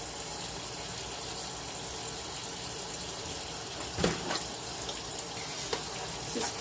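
Water poured onto a potato ricer at a kitchen sink runs as a steady splashing rush, with a few louder splashes and clanks toward the end.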